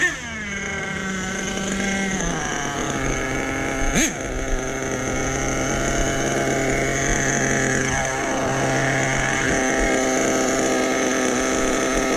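A truck engine idling steadily with a layered droning tone, a brief sharp knock partway through and slight pitch shifts as it runs on close by.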